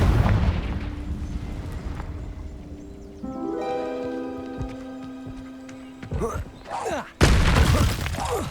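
A Confringo fire spell explosion in Hogwarts Legacy: rumbling blasts and a shattering burst, with tonal magical ringing partway through and a sharp, loud impact near the end, while a voice talks over it.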